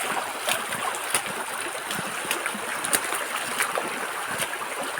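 A small mountain river or stream flows steadily, a continuous broadband wash of water with faint trickling detail and no voices.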